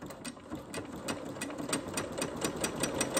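A sewing machine stitches at a steady rapid pace, its needle clatter forming an even mechanical rhythm, near and moderately quiet with no talking.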